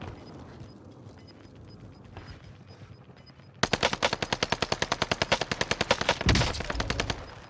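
Rapid burst of H4 Blixen submachine gun fire in a video game, loud fast-repeating shots lasting several seconds after quieter game ambience.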